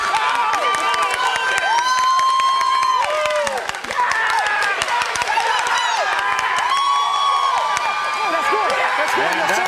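A stadium crowd at a 2021 Little League World Series game cheers loudly and continuously, with high children's shouts, whoops and scattered clapping, while a commentator talks over the din.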